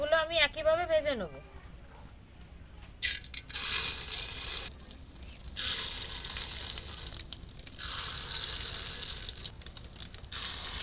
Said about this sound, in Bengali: বাকি বড়াগুলো আমি একইভাবে ভেজে নেব।